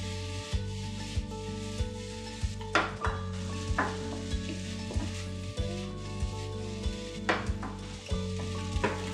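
Fried rice being stirred and turned in a hot pan, a steady close sizzle broken by repeated scraping strokes and clinks of the utensil against the pan.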